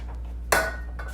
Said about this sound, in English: I'm going to spray my top with some Pam